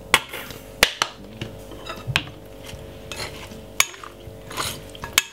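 A spoon clinks and scrapes against a bowl while new potatoes are mixed with mayonnaise and salad cream, giving irregular sharp knocks over soft, wet stirring.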